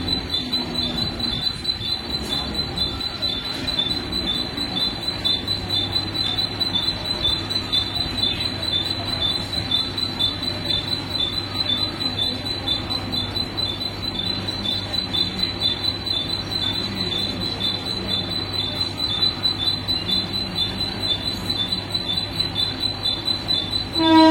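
A Mumbai fast local train bound for Badlapur stands at a station platform, its wheels squealing and carriages rumbling steadily and loudly throughout, with insect-like chirps in the background.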